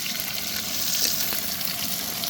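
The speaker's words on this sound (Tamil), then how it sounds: "ஒரே 3 பெரிய வெங்காயத்தை இந்த மாதிரி ஸ்லைஸ் பண்ணி சேர்த்துங்க" Three large sliced onions fry in a pan for a dhaba-style kadai masala, giving a dense, steady hiss and sizzle with no voices.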